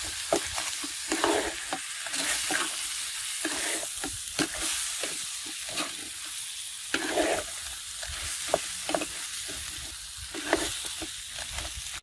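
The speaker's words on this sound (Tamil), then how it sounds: "இதோட நல்லா கிண்டி விடணும். அப்பதான் உப்பு மஞ்சள் எல்லாம் ஒன்று சேரும்." Crab curry with salt and turmeric is stirred in a pot in traditional Jaffna style, with repeated scraping strokes against the pot over a steady low sizzle and no talking.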